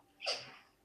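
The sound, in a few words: dog sneezing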